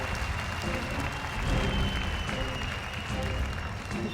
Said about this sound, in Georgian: და დაიმსახურა აპლოდისმენტები